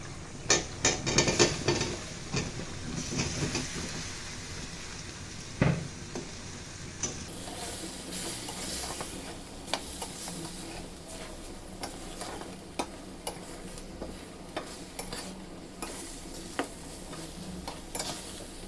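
Eggplant pieces are stirred into rendered beef fat in a pot, giving a loud sizzling burst at first that settles into a low simmer broken by regular sharp spoon knocks and scrapes against the pot.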